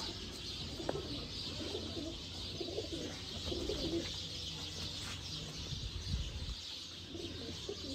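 Pigeons in a breeding pen coo softly and repeatedly at a moderate distance, with occasional chirps and a brief wing flutter over a steady background hum.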